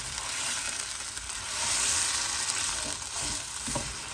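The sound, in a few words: stirring Fiji-style dry goat curry in a frying pan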